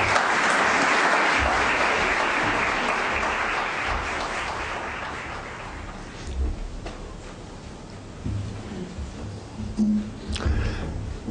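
An audience at the Wheeler Centre applauds to welcome writer Pierre Ryckmans before a talk on literary criticism. The sustained, dense clapping fills a hall for about six seconds, then fades into scattered claps and rustling.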